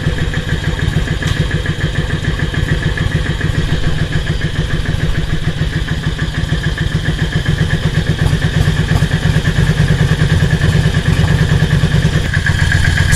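A motorcycle engine idles steadily during a carburettor sync, its low, even mechanical chugging continuing close and loud throughout with no talk over it.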